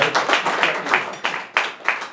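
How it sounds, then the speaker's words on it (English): A small group claps steadily for a couple of seconds, the claps close and fairly even. "let's give them a round of applause"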